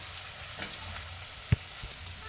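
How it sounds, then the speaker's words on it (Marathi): Fenugreek leaves stirred and fried in a pan for a masala methi dish make a soft, constant sizzle close by, with light stirring scrapes and one brief knock partway through. "छान असं मिक्स करून घेऊया फ्राय करून घेऊया"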